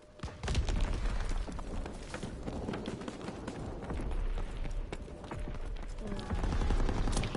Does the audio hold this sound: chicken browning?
no